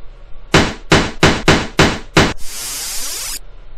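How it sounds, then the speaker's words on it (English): Cartoonish hammer sound effect from an educational spelling video game: six sharp, evenly spaced knocks followed by a brief bright ringing shimmer, loud and alone. "Hammer."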